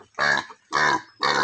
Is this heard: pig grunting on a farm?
yes